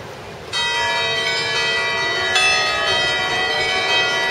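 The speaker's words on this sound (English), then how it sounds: "12 bells." Church bells ring out loud and close at noon in Vernazza, Italy, with a struck tone that swells and a second strike adding to the long, sustained metallic hum.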